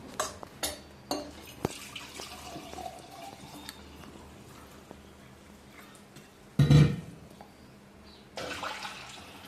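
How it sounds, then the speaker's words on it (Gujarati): Water poured into a hot pot on the stove for cooking angara rice, a short loud splash and gush near the end amid quiet kitchen clatter and drips, with a softer pour following. "તો આપણે 2 કરસિયા પાણી નાખ્યું"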